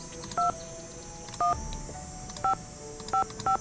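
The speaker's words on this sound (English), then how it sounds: "You want to try call Sally or?" Touch-tone keypad beeps dial a phone number in a Nancy Drew mystery game, five short evenly spaced dual-tone presses over a faint background hum.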